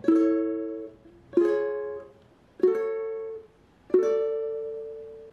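Four ukulele chords strummed one after another at a steady, unhurried pace, each ringing out before the next, with no voices.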